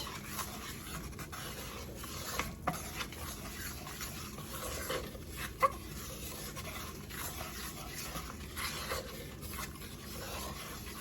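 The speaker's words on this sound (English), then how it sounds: "we want to just mix it up really good. We want to get all the lumps out" A utensil stirs thick gravy in a pan to work out the lumps, giving soft, continuous scraping and swishing close by, with a few sharper taps against the pan.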